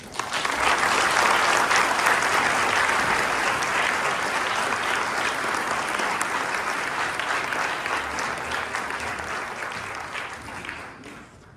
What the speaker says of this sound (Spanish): embajadora de Israel en México, Einat Kranz, que le recibimos con un fuerte aplauso